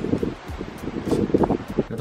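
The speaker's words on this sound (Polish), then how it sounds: "Mocny wiatr dzisiaj wieje." Gusty wind buffets the microphone in rough, uneven bursts, close and fairly loud, with some rustling.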